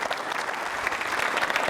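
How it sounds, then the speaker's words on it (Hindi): Dense, steady applause from an audience at a quiz show for trainee civil services officers, loud and close with no talk over it. "तालियां जोरों से बजाइए साहब"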